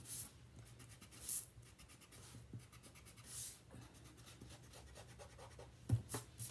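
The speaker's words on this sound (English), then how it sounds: "You can go in and erase these extra pencil lines that are right" Pencil lines rubbed out with an eraser on paper during a kids' colour-wheel umbrella drawing, soft repeated back-and-forth scrubbing strokes, quiet and close, no talk.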